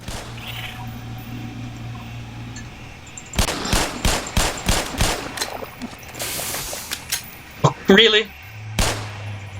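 Gunfire in the Black Mesa video game, a rapid burst of loud sharp pistol shots in close succession, followed by a few scattered shots and crackling effects, with brief talk.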